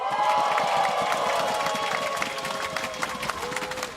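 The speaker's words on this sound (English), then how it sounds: "Make some noise if you're here to support Rogue" Esports arena crowd at a League of Legends LEC match cheering and applauding for team Rogue, a dense roar of shouts and clapping that is loud at first and eases slightly toward the end.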